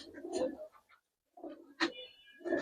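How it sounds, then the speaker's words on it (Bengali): A pigeon coos in a loft in a few soft, low bursts separated by a short pause, close by and quiet, with no voices. "খুব সুন্দর একটা কবুতর"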